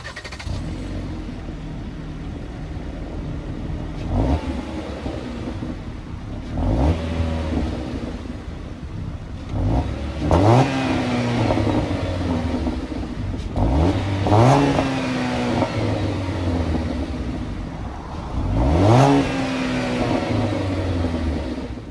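A Jeep Compass Trailhawk's 2.4-liter four-cylinder engine cranks and starts, then revs up several times in rising and falling sweeps over a steady idle, close and fairly loud.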